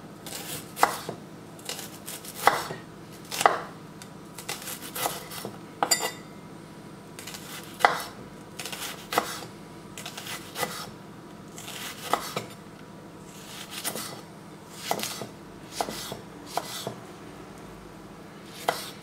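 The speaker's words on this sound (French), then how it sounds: "j'ai commencé à préparer mes petits oignons. On va maintenant les couper." A knife chops spring onions on a cutting board in uneven bursts of crisp, close taps, with short pauses between runs of cuts and a quiet kitchen background.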